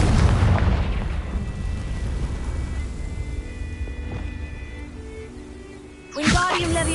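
A Confringo fire spell exploding in Hogwarts Legacy, a heavy booming blast at the start that decays into a long rumbling tail, then a voice speaks near the end.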